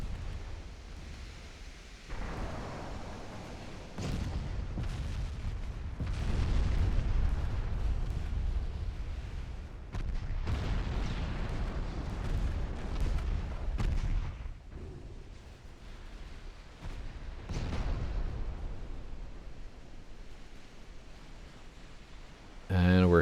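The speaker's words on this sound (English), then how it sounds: "we're hitting things with our torps" Torpedoes strike ships in a naval battle video game set in 1917, bringing a series of heavy booming explosions and rumbling blasts that swell and fade over several seconds, with a voice talking over them.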